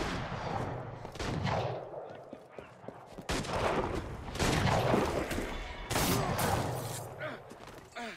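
Rapid gunfire from snipers in the video game Assassin's Creed Unity, with repeated sharp shots and bursts filling a busy, loud battle scene throughout.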